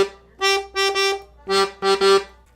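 48-bass accordion bass notes bounce between upper and lower octaves of G, played in short detached bursts with a brief pause in the middle.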